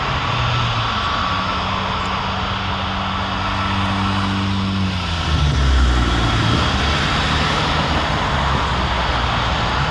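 A heavy Ethiopian airliner takes off from runway 23 at Toronto Pearson. A loud, steady jet roar with droning engine tones swells further about halfway through and stays continuous.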